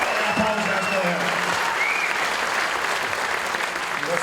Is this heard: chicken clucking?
no